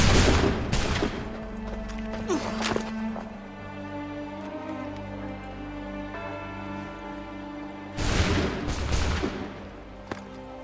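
A musket volley crashes in Assassin's Creed III, with a burst of several overlapping shots at the start and a second loud round later. Between them, softer game ambience and scattered rumbles fill the gap.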